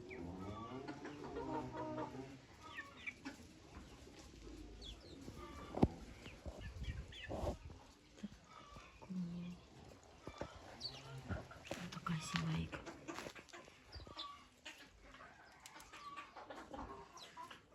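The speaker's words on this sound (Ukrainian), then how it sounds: "Півник мільфор." A Millefleur rooster and hens cluck on and off across a busy farmyard, with a few sharper calls standing out and people talking intermittently in the background.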